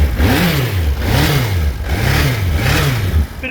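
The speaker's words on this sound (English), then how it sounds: "Bit of a cold engine, so a little bit fluffy." A cold, carburetted 1987 Suzuki GSXR1100J motorcycle engine revs up and drops back three times in a steady rhythm, loud and close, with a slightly rough, fluffy tone and no talking.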